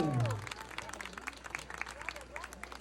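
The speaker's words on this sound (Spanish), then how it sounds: "Fuerte el aplauso, que se escuche" Applause from guests at a Purépecha wedding in a community celebration, a busy patter of clapping that follows a brief voice at the start.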